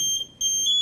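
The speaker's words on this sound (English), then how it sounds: "At the same time it sounds the pre-alarm tone" An MSA G1 SCBA breathing apparatus sounds its pre-alarm: sharp, shrill electronic beeps pulsing in quick bursts, close and loud, with no talking.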